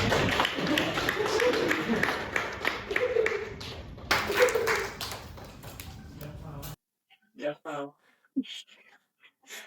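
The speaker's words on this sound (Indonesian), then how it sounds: "Kita kasih aplaus dulu buat yang menang." Students in a computer networking and telecommunications class clap for the winner, a dense round of applause under a voice talking, cutting off abruptly into quiet with brief speech after.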